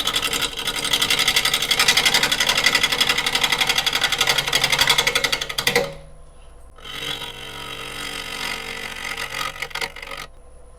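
A lathe-mounted boring tool hollows out a wood burl, a loud rhythmic scraping chatter that cuts off, then resumes more softly.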